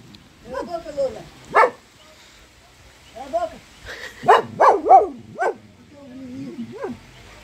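A dog barks in short bursts, several sharp yaps clustered together between quieter whines, with people talking nearby.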